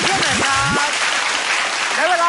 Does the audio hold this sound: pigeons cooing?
no